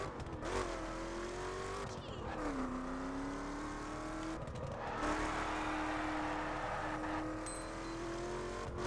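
A Chevrolet driven in the video game The Crew, its engine droning steadily and rising with shifting revs, with occasional tire noise as it races along.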